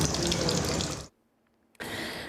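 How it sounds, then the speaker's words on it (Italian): A public fountain in Treviso spouts water with a loud, close splashing rush that cuts off abruptly into near silence for under a second, then bursts back just as strongly. "c'è sempre la fontana delle tette, per fortuna che adesso getta solo acqua."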